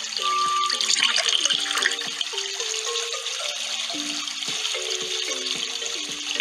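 Water fills a hole in the Dinosaur Train game Dino Drink, a running, gurgling pour layered with rising stepped chimes that fades somewhat toward the end.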